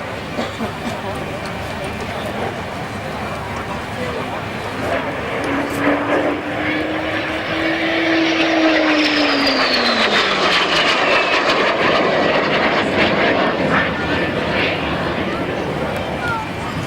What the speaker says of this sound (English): this was the T-11, which is a two-seater side-by-side aircraft, an advanced trainer